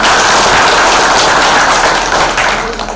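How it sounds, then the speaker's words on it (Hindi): An audience claps together at an Arya Samaj gathering, a dense, loud, steady patter of many hands that fades slightly toward the end. "अच्छा ताली बजाओ तो सारे बजाओ"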